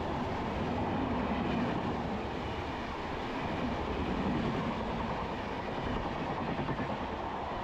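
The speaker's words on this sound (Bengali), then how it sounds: "ঝড়ের গতিতে ক্রস ওভার করছে 12871 হাওড়া তিতলাগড় ইস্পাত এক্সপ্রেস।" The 12871 Howrah–Titlagarh Ispat Express rushes past at high speed across a crossover, a steady, loud roar of wheels and carriages rumbling continuously with faint rhythmic rail clatter and no voices.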